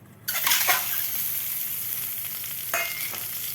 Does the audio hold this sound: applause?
no